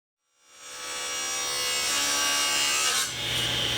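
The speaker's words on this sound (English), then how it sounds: "Now I just need to give everything a light sanding" Light hand sanding on solid wooden pieces for a wine rack, a close, continuous scratchy rasp that rises quickly from silence and holds steady with a slight dip near the end.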